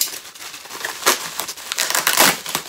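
A blade slicing into a bubble-wrapped eBay package of comic books, with crackling, crinkling plastic and tearing wrap in close, uneven bursts that swell louder toward the end.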